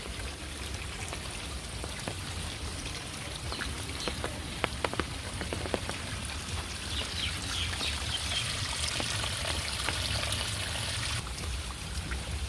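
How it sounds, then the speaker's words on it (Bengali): A sudden downpour drums steadily on nearby surfaces, a dense, even patter with scattered louder drips and runoff trickling beneath. "মানে হঠাৎ বৃষ্টি যেটা ওইটা হয়ে গেল এখন"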